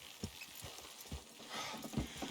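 Horses pulling hard in Red Dead Redemption 2, hooves clip-clopping in an uneven rhythm of dull thuds at close range over a steady game ambience.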